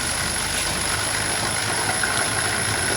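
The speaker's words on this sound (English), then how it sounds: "if we say start the pump now, it will start filling up the tub" Marksman smart pump starting up to fill a tub with water, a steady continuous mechanical hum with low engine-like rumble, constant and unchanging in level, no talk.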